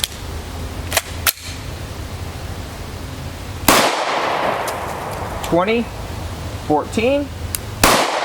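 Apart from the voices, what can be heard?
gunshots from FN Five-seveN with EFK Firedragon 5.4 inch barrel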